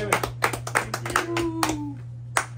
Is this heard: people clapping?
yes